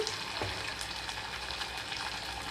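Tomato added to onions and spices frying in a pan for moong dal khichdi makes a faint, even sizzle with soft crackles, quiet and uninterrupted by voices.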